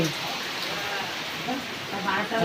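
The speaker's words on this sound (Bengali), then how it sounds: "কি বৃষ্টি দেখো, ঝেপে বৃষ্টি এসছে" Heavy rain pours down in a dense, steady close hiss that fills the whole stretch, with a few brief faint voices underneath.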